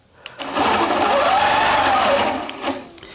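A longarm quilting machine stitches a dog-themed placemat using rulers, its motor running as a loud, steady buzzing drone at close range for about two seconds before slowing and stopping.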